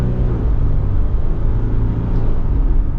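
2020 Jeep Wrangler EcoDiesel accelerating in traffic, a loud continuous low engine rumble and road drone heard from inside the cabin, steady throughout with no voices.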